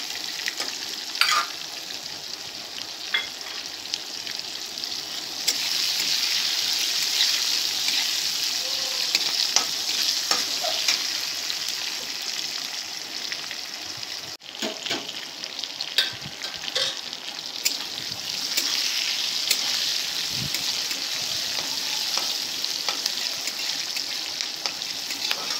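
Sliced onions and long-cut ginger frying in oil in a pan for a chicken mint dish, a continuous close sizzle broken by frequent clinks and scrapes of stirring, with no talk.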